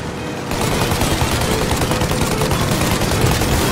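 Dense, continuous gunfire from Mafia Definitive Edition rattles through a chase against a plane, loud and close, with rapid overlapping shots and a constant roar of action underneath.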